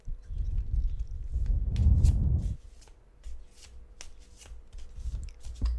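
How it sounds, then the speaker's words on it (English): Oracle cards shuffled by hand in a quick papery riffle that builds to a dense burst, then gives way to scattered soft taps and rustles as the deck is handled, close and quiet. "So we will just start to shuffle for pile number one, and I'm gonna start with these oracle cards from here."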